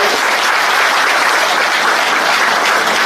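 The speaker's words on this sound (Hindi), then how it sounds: "सब लोग ताली बजाएंगे" Audience at a social media interaction programme in Pune breaks into dense, loud applause, a steady wash of clapping that holds for about three seconds without talk.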